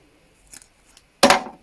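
Scissors scratching the bark of a ficus branch during bonsai care, a quick soft scrape followed by one close, crisp snip-like rasp, alone with no talk.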